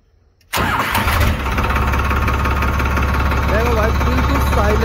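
A Farmtrac 60 Powermaxx tractor diesel engine cranks and catches after a short quiet moment, then settles into a loud, steady idle with a low chugging rumble, close by and continuous.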